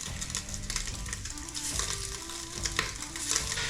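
Bite-sized chunks of Italian sausage frying in a hot pan, a busy close sizzle with crackling pops and spatula stirring scrapes, steady throughout, no talking.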